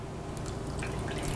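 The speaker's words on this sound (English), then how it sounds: "we are going to fill the rest with our vinegar and water solution." Vinegar and water solution poured into a pickle jar packed with green beans, a steady close liquid trickle and dripping running throughout without talk.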